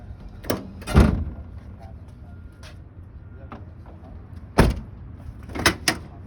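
During a CDL pre-trip inspection, a truck door latch is worked open and shut, giving several sharp metallic clunks spaced a few seconds apart against a quiet background.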